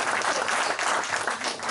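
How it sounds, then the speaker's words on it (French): A church congregation applauds the Lord in a loud, close, continuous burst of clapping that fills the whole moment without a break. "Donnons une acclamation au Seigneur."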